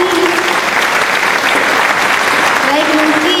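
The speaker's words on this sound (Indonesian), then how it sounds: "Beri tepuk tangan kepada Arif" Steady classroom applause from a group of students clapping for a classmate who explained the lesson at the front of the room, dense and continuous throughout, with a faint voice briefly under the clapping.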